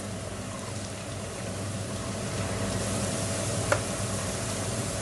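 A large pot of dried beans cooked for 100 people is stirred over heat, giving a steady, close sizzling and scraping hiss that runs unbroken with no talk.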